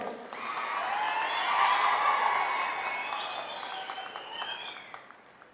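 An audience in Belagavi bursts into applause at a rally-style public event, with sustained dense clapping that swells and then gradually thins out, with no talking over it.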